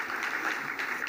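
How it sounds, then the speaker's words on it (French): Audience applause fills the hall at the opening ceremony of the Lake Chad Basin Governors' Forum, a steady, continuous clapping with no voices over it. "encore, sous vos applaudissements"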